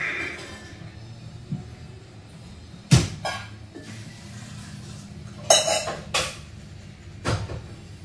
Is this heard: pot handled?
yes